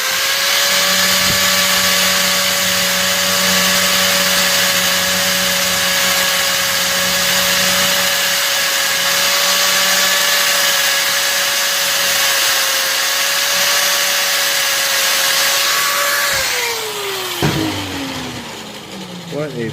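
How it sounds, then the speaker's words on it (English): A grinder works on old AN fittings from a radial engine, a loud sustained high whine with steady buzzing overtones that holds for a long stretch, then spins down as the motor winds off, with talk underneath. "I'm going to hit this with a grinder a little bit and see if I can get some of that out."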